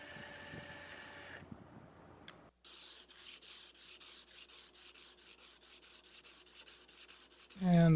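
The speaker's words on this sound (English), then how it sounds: "And then a bit more sanding." Hand sanding of a custom-built guitar body with a soft sanding block, a steady run of close, even rubbing strokes in a regular back-and-forth rhythm, with a louder scrape at the end.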